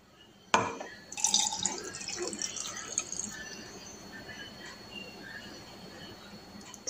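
Hot water mixed with honey pours into a container for lemonade, a bright splashing and trickling with glassy clinks after a sharp opening knock, settling into a softer steady trickle.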